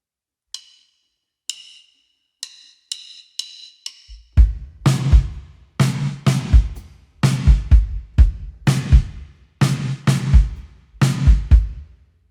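A drum groove on kick and snare: soft ticking hi-hat clicks first, then steady, close, punchy kick and snare hits in a slow repeating pattern, played alone.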